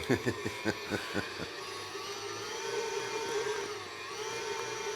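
A KitchenAid stand mixer mixing Swedish butter cookie dough gives a steady whirring hum at moderate level, with a few brief voice sounds at the start.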